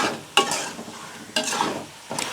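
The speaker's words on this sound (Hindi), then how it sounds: "अब हमने चिकन को उस वक्त तक फ्राई करना है जब तक कि इसका कलर चेंज ना हो जाए" Chicken pieces fry in a pan with onions, a steady sizzle broken by three bursts of scraping as a spoon stirs them, close and fairly loud, with no talking.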